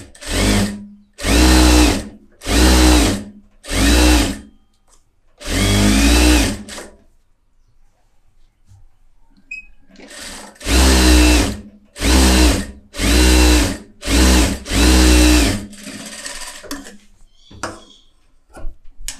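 A tailor's sewing machine stitches a long-sleeve border in a string of short, loud, evenly paced runs, each lasting about a second, with a longer pause midway before the runs resume.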